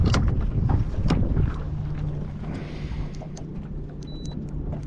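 Steady wind gusting across a microphone by the water during squid fishing from a boat, a constant rumbling buffet with a low engine hum underneath and no talking.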